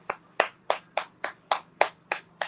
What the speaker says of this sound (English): I was going to snap, but this calls for clap instead